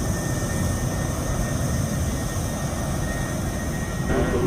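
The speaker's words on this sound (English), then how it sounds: "They stop the traffic so the plane can land." Airplane landing on the Gibraltar runway, where road traffic is stopped for it, a steady loud roar of aircraft engines carrying through the whole stretch.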